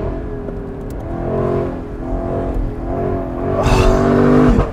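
A 2021 Lexus LC500 convertible with its V8 engine, driven hard through a corner, rising and falling in revs with a loud, steady rumble that builds toward a stronger surge near the end.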